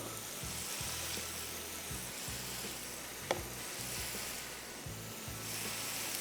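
Beef keema kebabs sizzle steadily on a tawa over low heat, with a continuous frying hiss, a faint low pulsing rumble underneath and one sharp click partway through. No voices.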